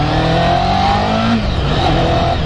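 A 2000 Honda CB-1 400 motorcycle on new tyres accelerates on the road, its engine note droning loud and steady throughout and dipping briefly as the pitch shifts midway.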